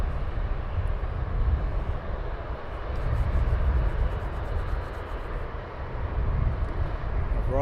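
A jet airliner arrives at Luton Airport in the early morning, its engines a steady, broad roar that swells and holds across the whole stretch, with wind buffeting the microphone.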